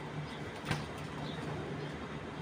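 A penned red checker racing cock pigeon coos softly with low, intermittent throaty tones over a steady hiss of background noise, faint and close by.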